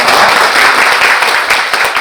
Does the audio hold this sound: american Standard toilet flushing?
no